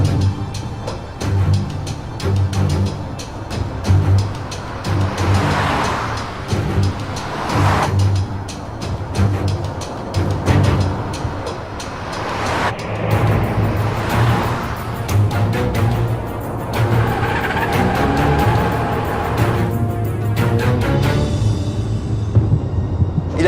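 A car races loudly in a chase, its engine roaring steadily and close for the whole stretch with surging, rushing noise and no voices.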